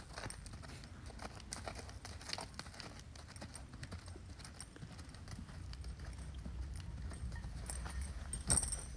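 Hooves of a ridden horse clip-clop in a steady walking rhythm, faint and somewhat distant, with soft rustling around them and a sharper knock near the end.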